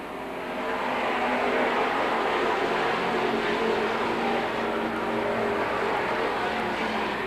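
Stock race cars roar around Seekonk Speedway during a 1984 weekly race, a dense, steady engine drone from a pack of cars passing close and loud throughout.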